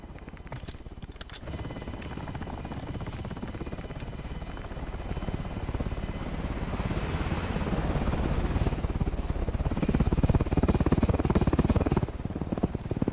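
Two helicopters flying overhead in a multiplayer shooter game, a steady loud rotor drone building in intensity across the whole stretch, with no talking.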